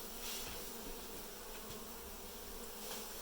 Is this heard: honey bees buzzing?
yes